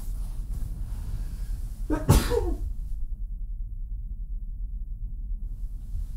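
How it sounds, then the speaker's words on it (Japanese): A single sharp human sneeze bursts out midway through a quiet indoor room, followed by faint breathing against soft background hiss. "くしゃみです。"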